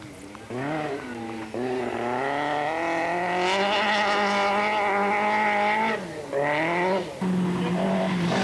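A 1985 rally car on a gravel mountain road during the Acropolis Rally, its engine revving hard and rising in pitch through several gear changes, loud and close.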